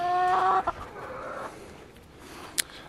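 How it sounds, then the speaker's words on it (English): A hen clucking inside a coop laying box, a short series of close, throaty clucks and a rising squawk, followed by faint rustling and a brief tap. "leave that chicken in there"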